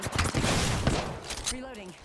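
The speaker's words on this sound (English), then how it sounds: "Opening fire." Gunfire in the video game Apex Legends comes as a dense, noisy burst of rapid shots that fades into game sounds and a short voice line near the end.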